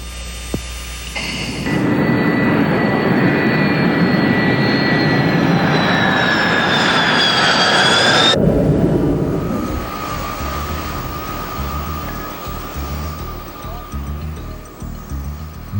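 An F-18 Hornet jet roars loud and close, a broad, sustained blast with rising whine that cuts off abruptly, leaving a lower lingering engine hum.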